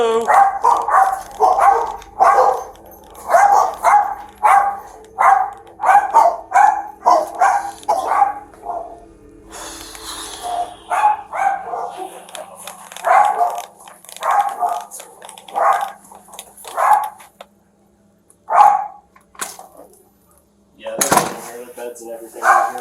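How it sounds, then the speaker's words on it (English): Puppies bark in rapid repeated bursts, then yip and whimper more sporadically, with people talking at times in between. "puppies."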